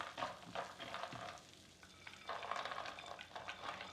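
Spiced mixed nuts are stirred with a spoon in a ceramic nonstick pan, giving soft rustling, scraping and tumbling in uneven bursts over a faint sizzle, close but quiet, with no voices.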